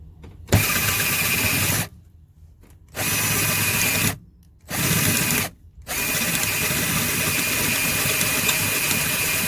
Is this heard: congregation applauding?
no